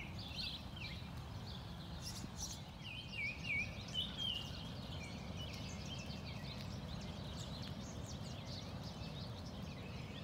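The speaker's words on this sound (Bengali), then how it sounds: "পাখির ডাক শোনা যায় প্রচুর" Birds call and chirp in a lakeside park at Drost Park in Maryville, Illinois, a scatter of thin high notes over a steady low outdoor rumble, with a brief busier burst of calls near the middle.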